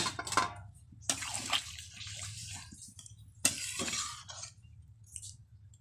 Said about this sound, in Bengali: দিয়ে দিচ্ছি পরিমাণ মতন জল।